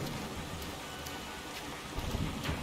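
Steady hiss of heavy rain during a stormy night in the Mafia Definitive Edition video game, a dense, even wash of falling water with slightly stronger gusts toward the end and no voices.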